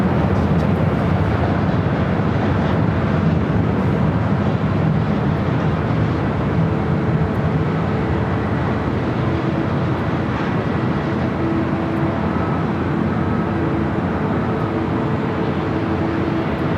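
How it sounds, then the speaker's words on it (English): Aeromexico Boeing 787 Dreamliner jet engines at LAX make a loud, steady broadband roar with a low rumble that holds evenly throughout, close and constant with no voices. "Aeromexico Dreamliner heading back to Mexico City."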